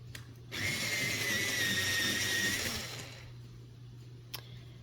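A red Arrtx colored pencil is sharpened with a close, steady whirring grind that lasts about three seconds, then falls away to quiet with a faint click.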